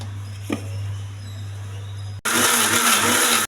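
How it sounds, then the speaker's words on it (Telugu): A kitchen mixer grinder blends cooled ingredients for onion chutney in its jar: a quiet low hum gives way to an abrupt, loud, steady whirring motor that runs strongly for over a second before cutting off. "మిక్సీ వేయాలండి"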